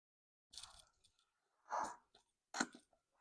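Someone chews a bite of collard greens cooked with ham and bacon, three short, close, moist crunching bursts separated by quiet pauses, with no talking.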